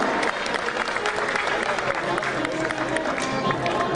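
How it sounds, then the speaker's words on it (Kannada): Audience at the Rajyotsava award ceremony breaks into dense, sustained applause, steady and loud throughout with a faint crowd murmur beneath the clapping. "ಬರಲಿ ಭರಪೂರ ಚಪ್ಪಾಳೆಗಳ ಗೌರವ"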